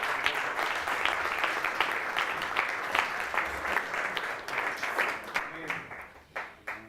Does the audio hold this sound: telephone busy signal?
no